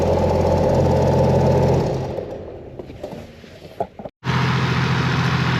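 A freshly fitted 1HDFT turbo diesel engine in an 80 series Land Cruiser runs loud and close with a rough knocking idle, dips and sputters briefly, cuts out for a moment, then roars back to steady running.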